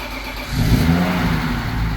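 A BMW M3 engine, an S50, revs up close, its rumble rising into a throaty surge about halfway through and holding there, with no talking.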